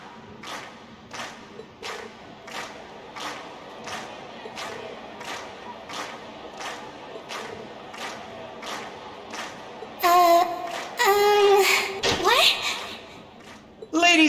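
A concert crowd in a video game cheers and shouts in a rhythmic chant of evenly spaced thumps, moderately loud, before a voice cuts in near the end.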